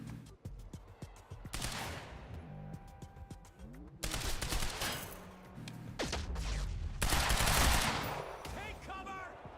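Heavy, rapid gunfire from the action game Quantum Break hammers away in long automatic bursts broken by short pauses, loud and close, with crashes and a few shouted voices mixed in.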